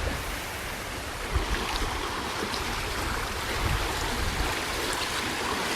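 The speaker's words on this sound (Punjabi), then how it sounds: "ਕਿਵੇਂ ਜਾਂਦਾ ਸੋਣੀ ਪਾਣੀ ਫਿਰਕਣੀਆਂ ਜੀ ਖਾਂਦਾ" Continuous rushing of the flooded Ghaggar river flowing and swirling past a bridge, a broad steady roar with faint wind, no voices.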